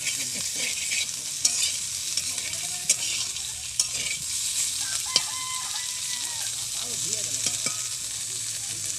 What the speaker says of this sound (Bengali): দেখো বীজ সহ করলা ভাজা